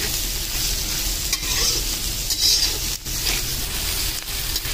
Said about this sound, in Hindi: प्याज को सेक लेंगे अच्छे से 4 से 5 मिनट प्याज को सेकने को लगेगा अपने को।